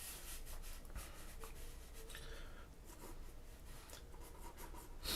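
A Sharpie pen sketches on paper in quick practice strokes, giving a steady, close scratchy rubbing with brief bursts of drawing across the whole stretch and no voices.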